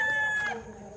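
A chicken clucks and calls nearby, a short raised cry that trails off into quieter background.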